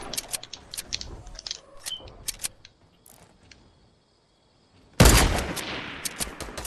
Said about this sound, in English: Wait, how did my snipe shot not hit that?